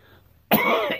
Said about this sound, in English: you are allowed to cough on the news